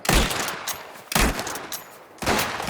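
Gunfire in the video game Mafia: The Old Country: three loud, close bursts of shots, each with a sharp attack and a trailing decay, spaced about a second apart.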